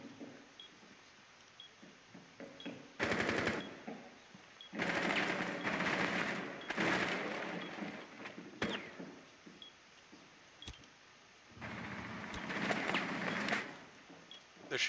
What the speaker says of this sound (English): Shooting through the game room wall.